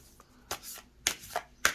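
Quick bursts of oracle cards riffling and snapping together, four separate shuffles spaced unevenly, close and crisp with no talking.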